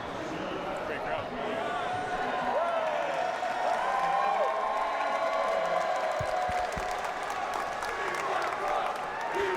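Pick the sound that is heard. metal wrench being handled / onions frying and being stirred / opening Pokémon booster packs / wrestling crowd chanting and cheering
wrestling crowd chanting and cheering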